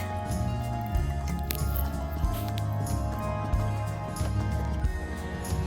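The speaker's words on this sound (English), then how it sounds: "the honey sometimes is hard to incorporate, but just keep stirring, it'll get there" Honey is stirred into a liquid mixture, giving close, continuous wet squishing and sloshing with soft drips, steady throughout with no talking.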